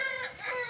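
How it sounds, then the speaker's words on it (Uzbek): A chicken gives a brief, close, moderately loud call at a home yard where roosters, hens and chicks are kept, with no talk. "Mana dakallar."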